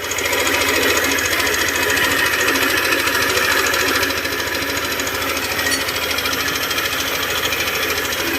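A Yamaha NMAX 155 scooter engine with an excessively noisy engine runs steadily at idle, a continuous rattling mechanical drone with a slight drop in level partway through.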